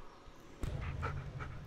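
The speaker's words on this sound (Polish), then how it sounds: "twój pies pomocnik. Słuchaj jego szczekanie, obserwuj jego mowę ciała." The helper dog in the video game Blair Witch pants close by in quick, rhythmic breaths, with a low rumble underneath.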